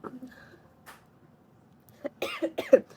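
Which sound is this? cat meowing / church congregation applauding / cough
cough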